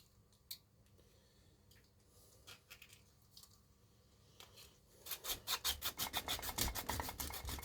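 A larger sanding block works over plastic on a Scalextric Ford Escort Mk1 and Morris Ital model: a few scattered rubs and taps, then a fast run of loud, close rhythmic rasping strokes.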